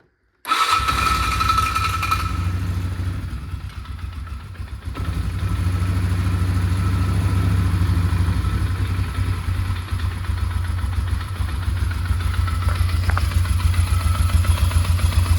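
A 1998–2005 Polaris Sportsman ATV engine starts and settles into a steady, close idle with a low, even rumble and a faint mechanical whir from the clutch.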